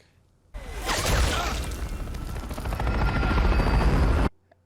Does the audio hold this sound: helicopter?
yes